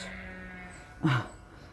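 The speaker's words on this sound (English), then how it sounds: "The sheep think that I'm the farmer, that I'm coming to feed them." A single sheep gives one short, near bleat beside a farm field. It rises briefly out of quiet outdoor background.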